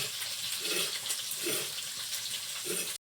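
Tap water runs steadily as colorful vegetables and carrots are rinsed in a home kitchen, a continuous close hiss with faint splashing pulses and no talking.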